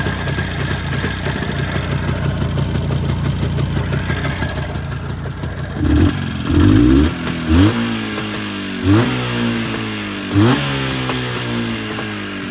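A restored Jawa 634 motorcycle engine runs steadily close by, its two-stroke idle loud and continuous with a few short revs blipping through the second half.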